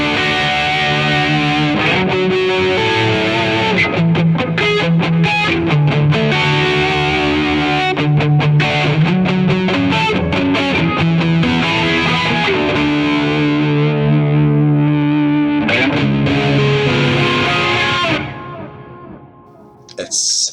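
Thick, heavily distorted electric guitar from three amp models blended in AmpliTube 5, played on a custom Strat with noiseless pickups; loud sustained chords and riffing that drop out near the end, no talking.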